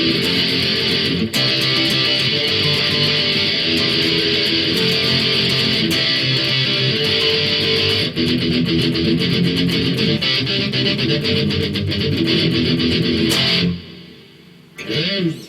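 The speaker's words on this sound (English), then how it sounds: "So, power chords as usual then." Loud, distorted electric guitar chugs through thick power chords in a pop-punk chorus for a long stretch, dense and driving, then cuts off abruptly near the end.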